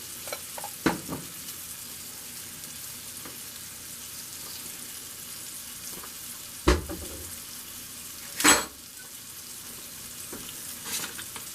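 Butter melts in a hot pan with a quiet, continuous sizzle, punctuated by a few sharp clanks and scrapes of utensils against the pan.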